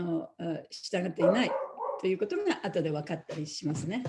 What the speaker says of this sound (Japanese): すいません、ちょっと犬がうるさいんで。